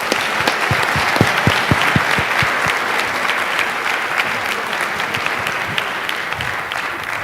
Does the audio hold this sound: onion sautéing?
no